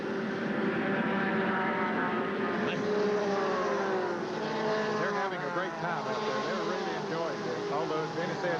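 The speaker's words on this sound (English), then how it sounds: "Here's Earnhardt trying to go on the inside, follow the car of Elton Sawyer, car number 42" NASCAR Busch Series stock cars race at Rockingham, a loud roaring engine drone with rising and falling pitch as cars pass, under a broadcast announcer's commentary.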